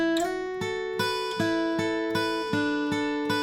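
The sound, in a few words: acoustic guitar playing a song's chorus end riff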